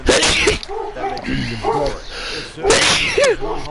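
A person sneezes loudly twice, sharp bursts near the start and again later, amid commentary during a golf video game broadcast.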